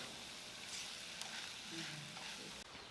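Quinoa and turmeric powder being stirred together in a hot pan, a steady close sizzle and fry with light scraping of the mixing, no voices.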